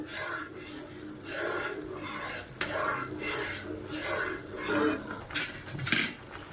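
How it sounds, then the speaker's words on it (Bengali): Roasted semolina is stirred without pause in boiling water for kesari bhat, a rhythmic series of close rubbing, scraping strokes against the pot, repeating roughly every half second. "অনবরত আমি এইভাবে নাড়াচাড়া করে জলগুলান শুকিয়ে নেব।"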